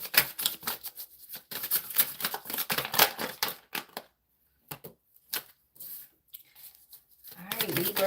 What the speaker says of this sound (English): Let me shuffle again. I didn't give that a good shuffle.